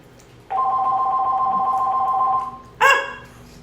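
A telephone rings in a home kitchen, one long steady electronic trill followed after a short pause by the start of a second, harsher ring, loud and close with no talk over it.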